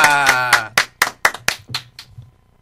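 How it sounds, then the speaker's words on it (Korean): On a Korean radio show, a few people clap along in time, sharp distinct claps at a steady beat over a fading sung or spoken voice, thinning out and stopping near the end. "박수로 듣겠습니다."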